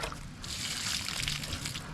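Water trickles gently onto newly planted moringa in dry farm soil, a steady, soft, close pour with light splashing and no talk.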